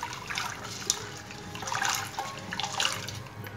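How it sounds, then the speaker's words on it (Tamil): Water sloshes and trickles as soaked lentils and rice are rinsed in a bowl, a faint, continuous swishing with small splashes and no talking. "எல்லாத்தையும் நல்லா மிக்ஸ் பண்ணிவிட்டு தண்ணி விட்டு நல்லா வாஷ் பண்ணிக்கலாம்"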